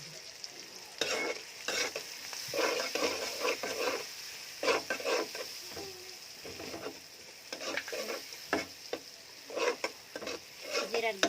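Turmeric, cumin and chopped onion fry with a steady sizzle in a pan while a spoon stirs in repeated scraping strokes, with no one talking.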